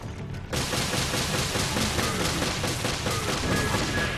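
Sustained automatic gunfire from a Resident Evil Revelations HD raid mode fight bursts in suddenly and keeps rattling loud and dense, a steady stream of shots with no talking over it.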